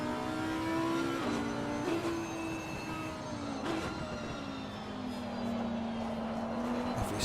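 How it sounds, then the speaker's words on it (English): An Audi R8 race car in a racing video game roars downhill at Mount Panorama, its engine droning steadily with slight pitch shifts and gear changes, loud and continuous with no talking. "Lovely sound from the R8 engine there as they plough down the hill"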